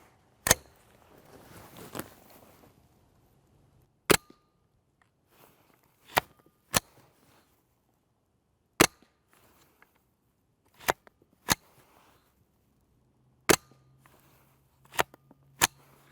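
Subsonic 5.7x28mm rounds fired one at a time, about ten sharp, dry reports spaced a second or two apart, fairly quiet and clipped rather than booming, with no talk over them.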